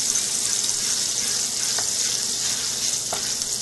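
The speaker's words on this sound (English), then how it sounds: "Sauté this." Green chilies sautéing in hot oil in a pan, a loud continuous sizzle and crackle close up, with a couple of brief scraping stirs and no talking.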